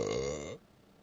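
A loud, deep, tonal burp sound effect from an Alexa Super Burp game, played once for about half a second and then cut off abruptly into near silence.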